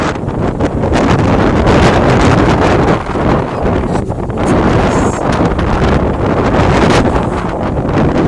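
Strong wind at Ototoka Beach near Whanganui, New Zealand, buffets the microphone in a loud, continuous roar with gusting surges, no voices heard.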